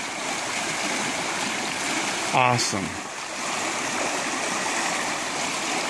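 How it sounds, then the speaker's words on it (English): Creek water runs steadily over a small ice jam waterfall with roughly a foot of drop in a winter creek, a constant rushing wash throughout, with a brief spoken exclamation near the middle. "and as you can hear, the creek."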